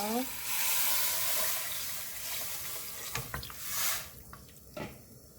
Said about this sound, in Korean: 여기에 물을 부어주세요